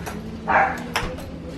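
A dog whimpers briefly, then lets out a couple of sharp barks close by, short bursts separated by brief pauses.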